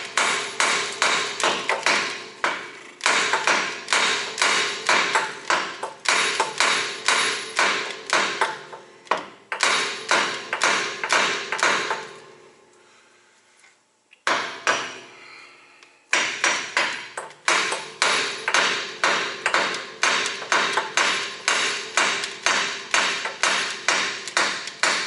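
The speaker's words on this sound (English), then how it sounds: "usually a couple hits with the hammer will get it loose" Repeated hammer blows strike a truck driveshaft to knock it loose during repair, sharp metallic hits in quick rhythmic bursts with a brief pause midway, loud and close.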